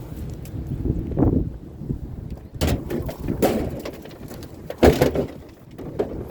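Gusty wind buffets the microphone outdoors, a low rumbling roar that swells and fades with sharper thumps from stronger gusts.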